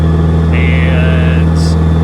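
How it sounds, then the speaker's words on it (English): Loud, droning exhaust of a Toyota MR2 with a swapped 4G63 engine, a heavy steady engine rumble filling the cabin, with no talk. "I'm yelling because the exhaust is loud."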